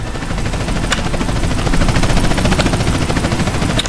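A helicopter flying at night in GTA San Andreas drones steadily and loudly throughout, its rotor chop forming a constant close hum.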